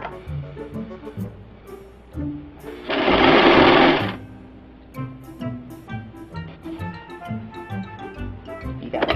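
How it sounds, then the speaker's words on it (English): A sewing machine stitches elastic onto fabric with a rapid, even mechanical ticking, broken by a loud hissing burst in the middle, and a voice talks over it. "You got to be careful that you're sewing just on this side here, where the elastic isn't."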